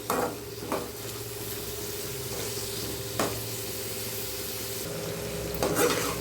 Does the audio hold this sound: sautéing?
yes